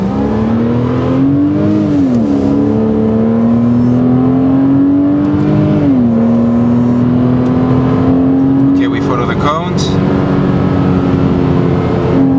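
A Porsche pulls away at a road show, its engine droning steadily and loudly up close, with the pitch rising and easing as it accelerates, and a person talking over it near the end.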